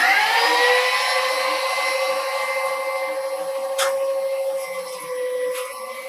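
A Weston No. 8 electric meat grinder pushes venison through a 4.5 millimetre plate, giving a loud, steady motor whine with a bright tonal hum that holds throughout, close up, with a few brief clicks near the end.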